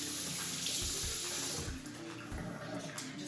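Tap water runs steadily into a kitchen sink as hands are washed, a soft continuous splashing stream heard close but fairly quiet.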